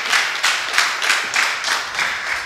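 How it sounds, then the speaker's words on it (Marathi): An audience claps together in a steady rhythm during a devotional discourse on Sant Dnyaneshwar's life at Umbargaon. About six even bursts of clapping fill the whole moment, with no talking. "तुमच्या कौशल्यासाठी एकदा संस्थानला टाळ्या वाजवायच्या."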